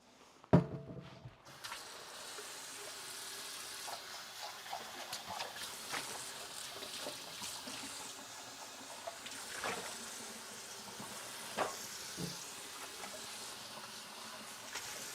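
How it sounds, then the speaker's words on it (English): Water runs steadily from a tap into a kitchen sink during dishwashing, a soft continuous splashing rush with occasional clinks and knocks of dishes, heard close and fairly quiet. "Gotta do some dishes now before I forget"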